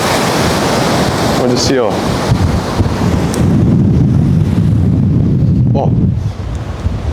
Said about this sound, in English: The wind is so potent.